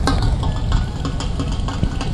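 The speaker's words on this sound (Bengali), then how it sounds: "ট্রলারটি ধীরে ধীরে এগিয়ে যাচ্ছে মাঝ নদী বরাবর, বুড়িগঙ্গার সেই মাঝ নদী।" A large trawler carries a Durga idol slowly along the middle of the Buriganga River during an immersion festival, its engine giving a steady, loud low-frequency rumble throughout.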